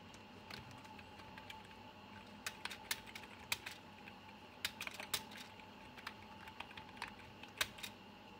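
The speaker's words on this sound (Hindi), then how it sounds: "मैंने ऐसे ही बस थोड़ा टाइपिंग किया था।" Typing practice on a computer keyboard, with bursts of quick, crisp key clicks in uneven runs, close and clear over a quiet room hum, and nobody speaking.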